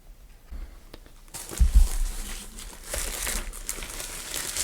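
Crinkling plastic and paper packaging rustles close by while a Redragon Antonium K745 Pro mechanical keyboard is unboxed, with a couple of louder handling thumps and continuous crackly rustling.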